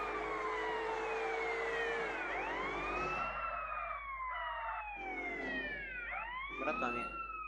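Police car siren in the game CRMP, loud wailing sweeps rising and falling repeatedly, shifting pitch patterns over a steady engine drone.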